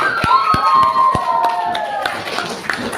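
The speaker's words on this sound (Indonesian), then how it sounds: "Ya, berikan tepuk tangan." A group of people clapping, scattered sharp claps at first settling into a brief round of applause, fairly close, with no one talking.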